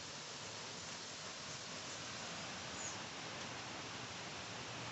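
The Cañaveralejo river flowing where it joins the Guarros stream, a steady broadband rush of water that fills the whole clip at a constant, fairly loud level, with no voices.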